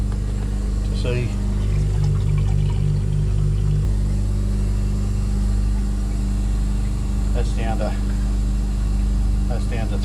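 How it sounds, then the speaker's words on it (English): Water maker running aboard a sailing boat, a loud steady mechanical hum and drone with a whining pump tone throughout, while a person talks over it now and then. "So I just started the water maker and got it up and running, just testing it"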